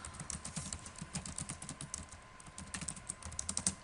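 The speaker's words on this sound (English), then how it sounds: "I'm just going to type a few sentences" Fast, steady typing on a computer keyboard, close and fairly quiet, with dense irregular key clicks running throughout and no voice.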